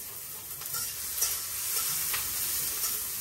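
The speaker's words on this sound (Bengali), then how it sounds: "কচুরলতিটা বসাই দিছি চিংড়ি মাছ দিয়ে, দিয়ে দিলাম তেল, আর পেঁয়াজ কুচি দিয়ে দিলাম, মরিচ" Taro stolons frying with prawns, oil, chopped onion and chilli give a steady close sizzle with occasional stirring scrapes, and no voices.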